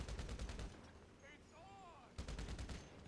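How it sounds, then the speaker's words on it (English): MG Mark II machine gun fire in GTA Online, loud rapid automatic bursts at the start and end with a quieter gap between carrying whistling, swooping game sounds. "This is literally like one of the best, if not the best machine gun in the game."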